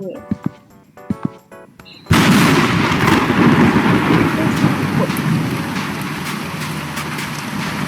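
A heavy thunderclap from a lightning strike in the Roblox game A Dusty Trip bursts in suddenly and rolls into a sustained roar of rain and rumble, loud and close, after a few quieter sharp clicks.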